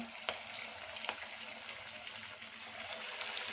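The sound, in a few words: chicken kebab pieces frying in hot oil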